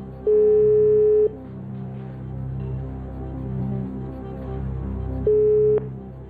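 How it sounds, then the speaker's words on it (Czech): A telephone call rings through during the phone-a-friend round of the Czech quiz show Who Wants to Be a Millionaire: two long steady tones, one near the start and one near the end, over quiet background music. "Zavolejme tedy vašemu příteli Jardovi."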